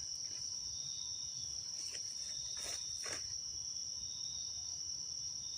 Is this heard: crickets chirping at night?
yes